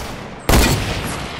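A hunting rifle fires once in Fortnite, a single sharp, loud crack that decays into a lingering rumble.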